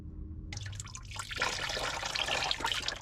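Liquid begins pouring after a short quiet moment as coolant drains from a Subaru drain plug, a close, steady splashing trickle with uneven drips that runs to the end.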